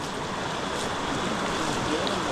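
Hot river water runs steadily through the Bosque de la Primavera forest in Mexico, a continuous broadband rush of flowing current heard up close with a faint voice underneath.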